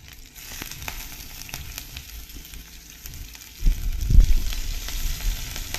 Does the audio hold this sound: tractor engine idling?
no